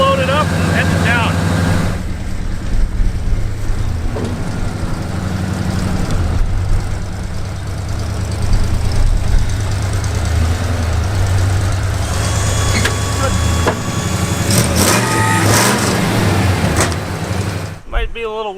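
A worn-out Ford F250 truck idles with Flowmaster 40 mufflers, a loud, deep, steady exhaust rumble running continuously up close, with people talking over it.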